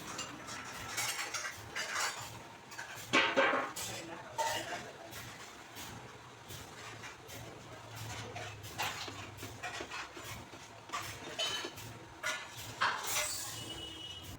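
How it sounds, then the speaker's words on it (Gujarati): Grated mawa being stirred into sugar syrup in a pan, a spoon or ladle scraping and clinking against metal in irregular strokes, with background kitchen noise and faint voices. "પછી એને આ રીતે બધી બાજુથી હલાવવામાં આવે છે જેથી કરીને સરખો મિક્સ થઈ જાય"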